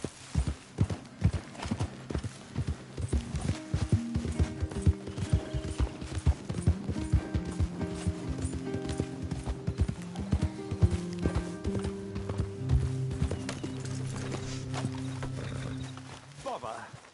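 Horse hooves clip-clop steadily in Red Dead Redemption 2, a close rhythmic run of hoofbeats with creaking tack and an occasional snort, while voices speak over it.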